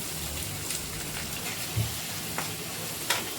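Finely chopped onions sauté in a pan, giving a soft, steady frying hiss with faint crackles and an occasional stir, low and close with no voices.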